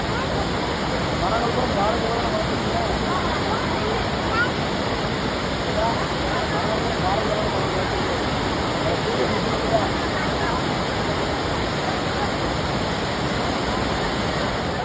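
Kundaru dam waterfall in flood after heavy rain, a broad, steady roar of heavily falling water that stays loud and unbroken throughout, with no pauses.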